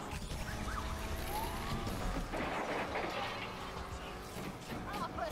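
Police siren wailing in the Need for Speed Unbound racing game, mixed with crashes and engine noise at a steady loud level, with someone talking over it.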